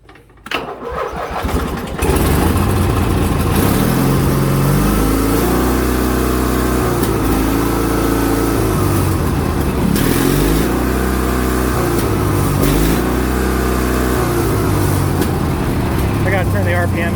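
A 1987 Craftsman GT18 riding lawn tractor engine starts and then runs steadily and loudly at high RPM for a long stretch, a close, continuous drone with no speech.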